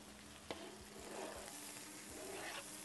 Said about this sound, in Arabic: هون نحن كمان رح نضيف شوية زيت زيتون وندبل البصل والثوم مع الكزبرة طبعا